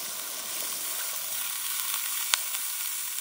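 Water hits a hot cooking pan at a seaside cookout in the Andamans, raising a steady, close, bright sizzle that holds evenly throughout, with one sharp tick partway through and no talking.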